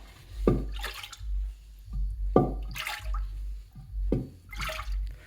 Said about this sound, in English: There's water in the intake manifold.